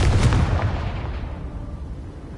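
A Confringo explosive spell detonates in a Harry Potter video game, a single loud, booming blast at the start whose rumbling roar fades over the next two seconds.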